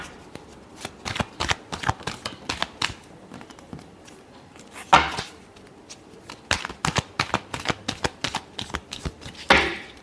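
Tarot cards are shuffled close up in repeated bursts of rapid flicking snaps, clusters of sharp clicks separated by short pauses, with one or two louder riffles and no talking.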